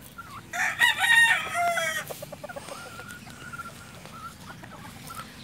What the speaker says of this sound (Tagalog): So ngayon guys, so nakita nyo guys yung manukan ni Battle King guys.